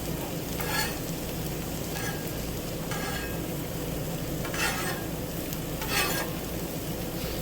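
French fries sizzle steadily on a hot Blackstone griddle aboard a houseboat, with a spatula periodically scraping and pushing them across the surface in short bursts. The frying hiss stays close and continuous, and no one speaks.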